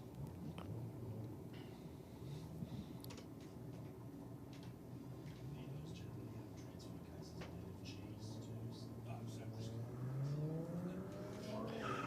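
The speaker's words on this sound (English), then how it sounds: "Fair bit of tyre spin there for the R33" Nissan Skyline R33 launching at a drag race, tyres spinning with a rising squeal over a steady loud engine roar, crowd and track noise around it, and a voice talking over the top.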